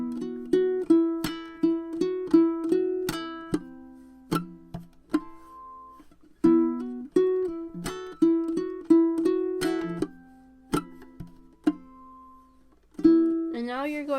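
Fingerstyle ukulele intro of a song, with plucked notes in quick rhythmic runs, ringing harmonics and brief pauses between phrases, played close and clear with no talking.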